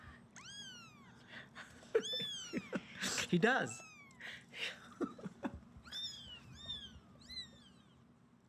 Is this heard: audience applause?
no